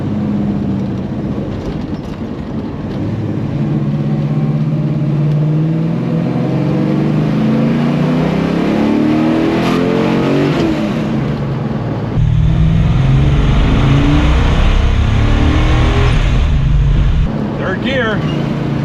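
A 1969 Dodge Charger revs on a test drive, its engine droning and climbing through gears with rising pitch sweeps, loud and close, while people talk over it.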